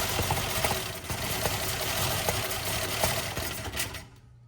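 A 1966 Ford Mustang engine runs steadily with the transmission out, a loud continuous mechanical drone with rapid rhythmic pulsing that carries for about four seconds before cutting off abruptly.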